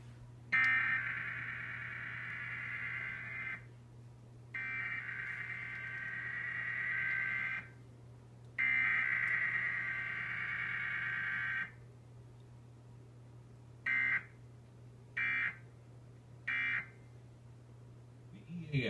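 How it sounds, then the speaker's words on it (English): Emergency Alert System test tones from Dallas-Fort Worth station WFAA: loud, steady two-tone bursts of several seconds each, repeated three times, then a series of short beeps over a constant low hum. "following is a test of the emergency alert system."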